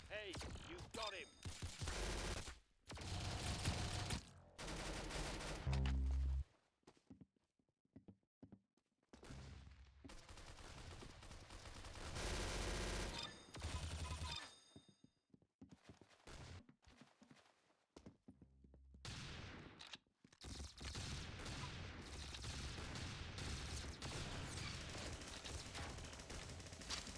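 Gunfire in Roblox Arsenal on the Tuscan map comes in loud rapid bursts and single shots, broken by brief silent gaps, over dense game sound effects.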